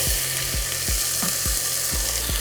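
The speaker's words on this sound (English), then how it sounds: "We're gonna saute the red onion for about 3 to 5 minutes" Diced red onion sautes in olive oil in a large soup pot over medium-high heat, giving a loud, steady sizzle broken by regular scraping stirs about every half second.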